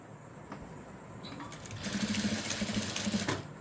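A sewing machine topstitches over an existing seam on a folded quarter-inch hem of a boat neck blouse, a quick close burst of rapid stitching lasting under two seconds after quiet handling.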